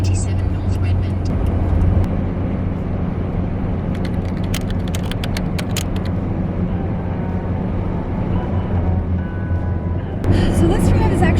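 A 1992 Toyota Hilux camper van cruising on a highway in winter, steady loud engine drone and road rumble throughout, with a brief burst of higher hiss near the end.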